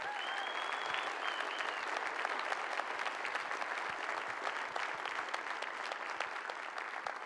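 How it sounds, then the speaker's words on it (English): Sustained audience applause for a governor at a personal-finance event, steady dense clapping filling the room for the whole stretch, with a faint voice briefly heard over it near the start. "Let's give the governor another round of applause."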